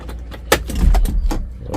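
A set of car keys for an Opel Blazer Montera SUV jingles briefly and close by, with a few light metallic clinks over a low rumble.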